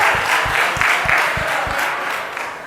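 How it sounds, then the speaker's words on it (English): Audience applause at a financial literacy fair closing event, a steady wash of many hands clapping with a few sharp, evenly spaced louder claps standing out near the front, easing slightly toward the end. "Team USA, give yourselves a round of applause for winning our financial soccer"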